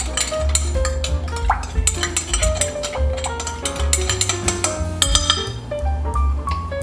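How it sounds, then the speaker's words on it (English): A utensil stirs minced garlic in a cooking pan, giving repeated metallic scrapes, clinks and taps in an irregular rhythm, close and fairly loud, with a faint hum and tonal noise beneath. "And I stir that up pretty good."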